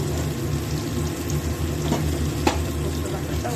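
Poppy seed paste fries in a pan with a steady, close sizzle and a few light clicks of stirring.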